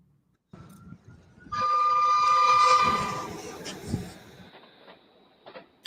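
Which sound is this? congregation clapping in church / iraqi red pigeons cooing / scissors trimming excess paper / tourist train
tourist train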